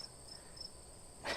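Crickets chirp in a steady, faint outdoor trill with a persistent high shimmer, joined near the end by a brief louder rustle; no one speaks.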